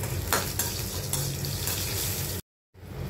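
Cashews, green and dried red chillies and curry leaves frying in hot oil for an amla rice tempering, a loud dense sizzle with stirring, cutting to silence briefly near the end before resuming.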